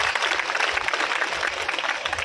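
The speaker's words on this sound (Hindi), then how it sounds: "एक बार खुद के लिए जोरदार तालियां।" Large, mostly female audience at a women's conference applauding loudly for themselves, a thick continuous roar of clapping filling the hall from start to finish.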